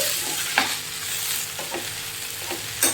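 Turmeric sizzles in hot tempering oil for a coconut and raw mango chutney, a soft steady fry broken by a few scraping stirs of the spoon against the pan, close and without talk.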